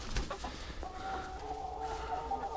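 Laying hens in a small farm coop make soft, nearby clucking calls, one drawn-out call carrying over a quiet background, with no speech.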